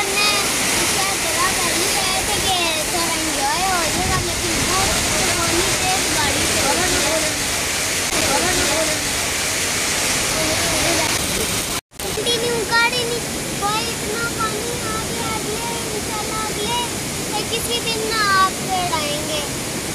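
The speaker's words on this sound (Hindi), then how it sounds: "देखे ना सैलाब आया हुआ, इतना पानी आया हुआ, देखे कितना पानी आया हुआ" Swollen floodwater surging through Shadara Valley near Islamabad, a loud continuous roar and splash lasting the whole stretch, with a brief cut near the middle and voices faintly under the water's noise.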